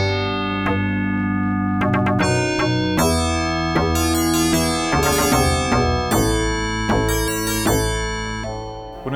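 Music played through an AdLib FM synthesis sound card, a Canadian card from 1987, on a 1980s PC, with steady bright synthesized tones and chords running continuously and loud throughout.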